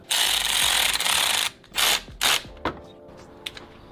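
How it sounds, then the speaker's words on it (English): A ratchet tightens the lower hose clamp on a turbo intercooler hose, giving close, loud bursts of rapid clicking followed by a few shorter clicks, with no talking. "Now we're gonna tighten the lower hose clamp for the intercooler."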